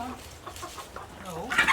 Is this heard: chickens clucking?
yes